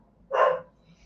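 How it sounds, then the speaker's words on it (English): A single short dog bark, moderately loud and somewhat distant, standing alone against a low indoor background hum. "Sorry about the barking."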